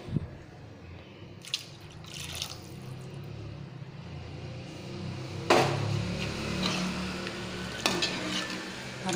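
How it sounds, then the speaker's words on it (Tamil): Water poured into a simmering fish curry, with a soft bubbling and stirring bed, brief splashy pours and a louder gush midway, close and without talk. "இப்போ தேவையான அளவுக்கு நம்ம தண்ணி ஆட் பண்ணிக்கலாம்"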